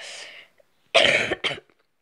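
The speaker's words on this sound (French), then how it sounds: "désolée si je tousse, c'est parce que je suis malade" Two coughing bursts close up, a first short one followed after a pause by a longer harsh cough and a quick second one, then silence.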